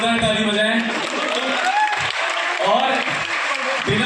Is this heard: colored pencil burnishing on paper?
no